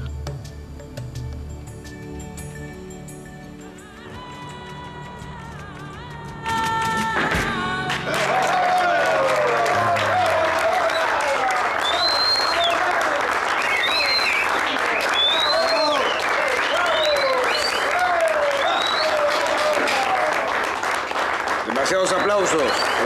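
A crowd applauds loudly and steadily for a long stretch after a quieter opening with music and talk, with voices heard over the clapping.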